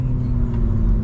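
A 2025 BMW M4 Competition xDrive with its exhaust valves open, giving a loud, steady, close engine drone with a deep low rumble in one short burst.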